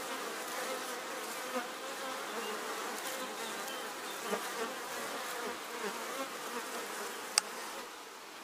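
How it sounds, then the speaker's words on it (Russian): Bees buzzing at a hive entrance as they polish the landing board and fan to ventilate, a dense steady hum of many insects close by with occasional louder passes. "А здесь вот пчелки полируют прилетку, плюс вентилируют."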